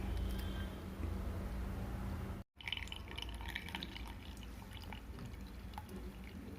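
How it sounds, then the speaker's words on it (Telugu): Ground beetroot and lemon juice, blended with water, trickles and drips through a sieve in a soft, steady liquid patter that breaks off for an instant midway before carrying on. "గ్రైండ్ చేసుకొని దాన్ని జాలీతో వడబట్టుకోవాలి"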